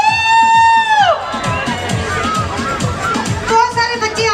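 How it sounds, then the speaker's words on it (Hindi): A crowd of parents at a Brooklyn Chand Raat bazaar cheers and claps for a young girl, a loud swell of hubbub with a sustained tone and shouting children over steady rhythmic thumps. "Everyone join me in giving her a huge round of applause."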